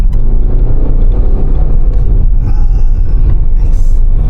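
A Tata Sierra drives and accelerates, its engine and road rumble loud and heavy inside the cabin, with the note rising steadily as speed builds.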